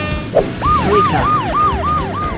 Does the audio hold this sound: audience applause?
no